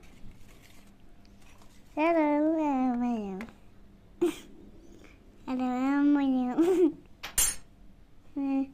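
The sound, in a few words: stirring spinach pancake batter after adding flour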